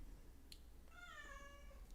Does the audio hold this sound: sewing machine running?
no